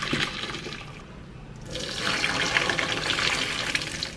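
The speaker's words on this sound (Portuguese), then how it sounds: "Agora eu vou escorrer essa água." Hot pasta cooking water pours steadily out of the pot into a sink as the pasta is drained, a continuous splashing rush that swells louder partway through, with no talking.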